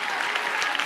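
A church congregation keeps clapping during worship in a brief burst of dense, even applause with no pauses.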